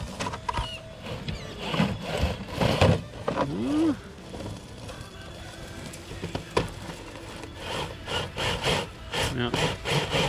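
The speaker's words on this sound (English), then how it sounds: "this tire stuck under there, and this whole side is just rubbing on this rock" A radio-controlled 1979 Chevy K5 Blazer TRX-4 scale truck's tire scrapes and grinds against rock as the truck struggles, giving irregular rasping bursts, close and fairly quiet.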